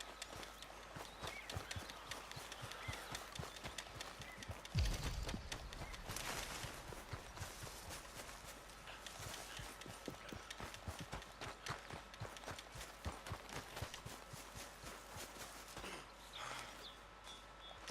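Rapid hoofbeats clip-clop steadily throughout as a horse trots along in the video game Red Dead Redemption 2, with a brief thump partway through and faint background ambience.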